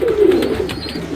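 A pigeon in a busy breeding loft gives a single close, soft throaty coo, with faint bird sounds behind it.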